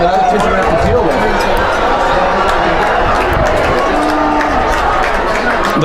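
Crowd at a high school football game between Cypress and Foothill, a dense, loud murmur of voices reacting while the referees confer, with a commentator talking over it throughout.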